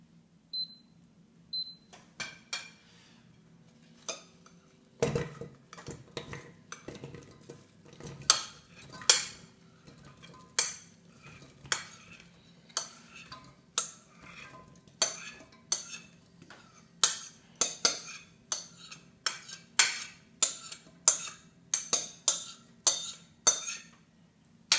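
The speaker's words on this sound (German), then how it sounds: "das Ganze kommt nun in einen Topf" Ingredients tipped and stirred into a cooking pot for a vegan chestnut and red wine pâté, with repeated clinks and knocks of utensils against cookware over a steady low hum, near and moderately loud.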